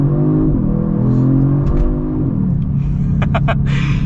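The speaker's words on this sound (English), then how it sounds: "we're going to pop it into the Sport Plus mode so we can get a pretty nice acceleration once this light goes green" A 2022 Genesis G70 in Sport Plus mode pulls away hard from a traffic light, its engine note climbing loudly through the revs and then dropping at a gear change before rising again, heard from inside the car.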